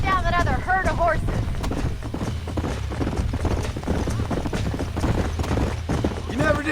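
Horse hooves clip-clop at a steady gallop in the Western video game Red Dead Redemption, a continuous rhythmic patter under game music and talking voices, with a brief whinny near the start.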